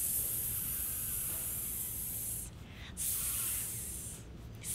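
A voice imitating popcorn sizzling in a pot during a toddler singalong, a steady breathy hiss that drops out briefly midway and then resumes, close and continuous.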